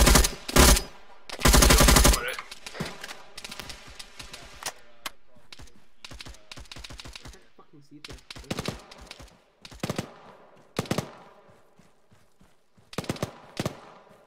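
In ARMA 3, a PK machine gun rattles off in bursts alongside other rifle fire during a squad training raid, loud sharp cracks with quieter gaps and scattered single shots, mixed with brief radio chatter.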